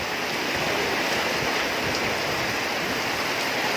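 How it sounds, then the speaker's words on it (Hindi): Rainwater rushes through an overflowing street drain in a main market during heavy rain, a loud, steady, close hiss of flowing water with no pauses. "ये नाली पूरी ऊपर फुल तक भर चुकी है"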